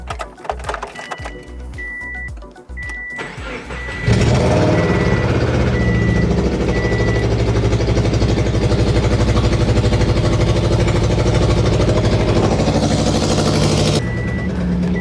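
A Subaru Impreza engine cranks briefly and then catches into a loud, steady, rough idle with an exhaust leak, running close by for over ten seconds alongside intermittent high beeping.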